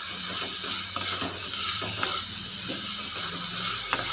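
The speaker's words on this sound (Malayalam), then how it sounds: "നന്നായിട്ടൊന്ന് വഴറ്റി കൊടുക്കാം" Ingredients for a Kerala-style anchovy fish curry sautéing in a pan, with a steady close sizzle and hiss running throughout and occasional light scrapes and stirring clinks.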